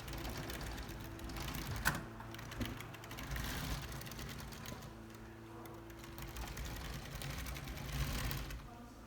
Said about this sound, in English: You can use this little knob at the back to steer the Sandcrawler while moving it.